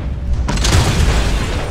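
Dynamite goes off in Red Dead Online. After a short, quiet lead-in, one loud, close blast erupts suddenly and rolls on as a heavy, rumbling roar.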